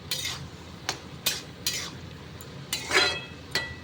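Bottle gourd curry with turmeric being stirred in a pan, several distinct metal-on-pan scrapes and clinks spaced roughly every half second to second over a faint background hiss; no talking.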